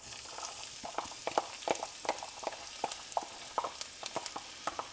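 A medium diced onion hits a hot pan beside a simmering pot of lentils, giving soft crackling sizzle with scattered sharp pops and stirring scrapes, close and fairly quiet, with no voices.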